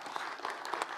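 Audience at a conference session claps in a brief burst of applause, a dense patter of many hands close by.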